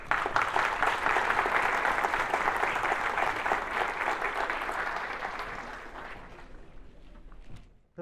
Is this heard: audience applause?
yes